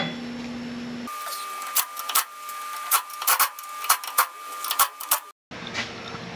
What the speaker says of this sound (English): Now we'll hit it with the wrench.